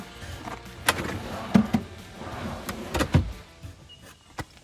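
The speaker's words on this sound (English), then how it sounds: "as you can hear, they lock in place when you open and close them" A few sharp mechanical clicks and clunks of drawer slides locking in place on custom DIY drawers, separated by quiet rustling handling noise; moderately close, no talking.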